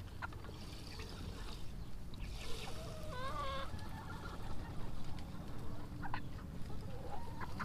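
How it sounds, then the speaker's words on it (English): Nine-week-old Cornish cross chickens cluck and chirp in a flock, with brief rising calls over a low background rumble, moderately near and fairly faint. "Look at these 9-week-old Cornish cross chicks."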